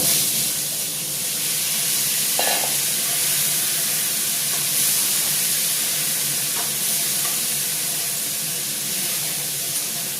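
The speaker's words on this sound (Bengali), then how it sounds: "এবার আমি সবজিটাকে খুব ভালো করে ভেজে নেব।" Vegetables frying in oil seasoned with panch phoron, a continuous hissing sizzle heard close up, with an occasional faint clink of a utensil.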